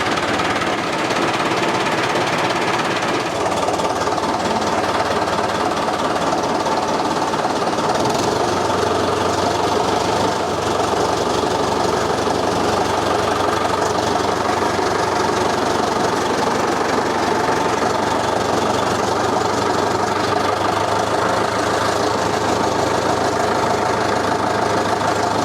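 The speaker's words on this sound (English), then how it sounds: "It's been sitting here like 2 months, and I can just crank it up." A David Brown tractor engine that had sat unused for about two months cranks over and fires, then settles into a loud, steady, knocking diesel run close by.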